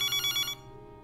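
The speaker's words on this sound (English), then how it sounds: "In Dubai, Abby's dad is sleeping when the phone rings." A telephone rings at night in a home in Dubai: about four short, bright ringing pulses in quick rhythm, fairly close, then the ringing stops abruptly with no one speaking.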